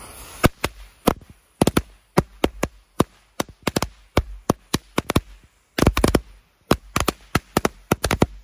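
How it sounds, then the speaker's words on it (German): A long chain of 200 firecrackers pops in rapid, irregular bursts of sharp cracks, loud and close, with brief pauses between clusters. "Wir machen jetzt die 200 Böller Knallkette."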